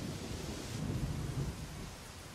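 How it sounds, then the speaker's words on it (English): Heavy rain pours down at an outdoor welding site, a steady broadband wash with a low rumble of thunder underneath, fairly quiet and without voices. "we have a heavy rain."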